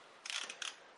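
Torque wrench tightening a bolt on a Briggs and Stratton Power Built 12.5 HP flathead Model 28 engine during a rebuild, set to 140 inch-pounds: two short, crisp mechanical clicks close by, quiet and with no talk.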